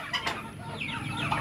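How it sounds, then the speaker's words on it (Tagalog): Native chickens in a backyard farm cluck softly at close range, a few overlapping calls over a steady outdoor background, with no speech. "dito muna tayo sa ating mga alagang native na manok"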